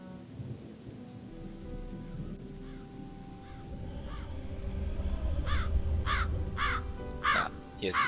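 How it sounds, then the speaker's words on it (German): In the video game Gothic II, a crow caws in a series of harsh calls, several in quick succession toward the end, over a steady background of rain and low rumbling. "Hier ist die Krähe."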